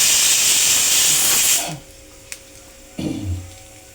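Dried red chillies and curry leaves drop into hot oil for a Kerala beef roast: a loud steady hiss that cuts off suddenly, then quieter crackle and a second burst of sizzling.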